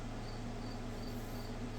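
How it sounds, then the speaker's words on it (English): Crickets chirping outdoors at night, a dense steady trill with faint regular pulses, continuous and moderately quiet with no voices. "I just cannot deal with listening to stupid-ass crickets all night."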